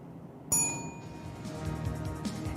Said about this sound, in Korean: 벨이 울렸어요